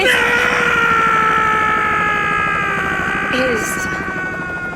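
A helicopter flies in a scene from an audio drama, a steady loud rotor and engine drone throughout with a bright whine on top, while a voice shouts over it.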